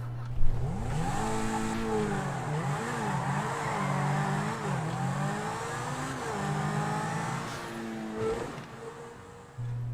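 Cars in a GTA video game pull away for a bank heist, engines revving and accelerating with rising and falling pitch, tires briefly squealing, loud and close over a music bed.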